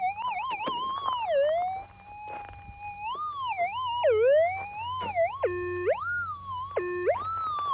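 A Minelab metal detector overloading over gold nuggets gives a loud, wavering electronic tone that slides up and down in pitch, with two stepped, warbling bursts near the end, heard alone without talk.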